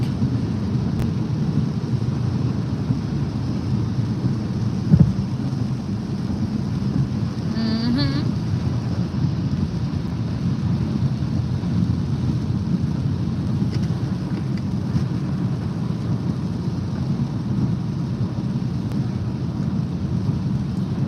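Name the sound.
rain heard from inside a car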